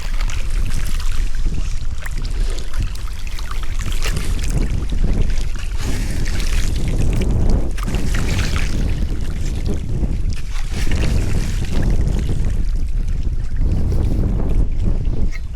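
Irrigation water rushes steadily through an opened channel into a paddy field, a continuous loud outdoor wash mixed with wind buffeting the microphone throughout.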